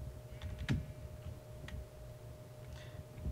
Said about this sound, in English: I hit the space bar really hard if whenever I'm parkouring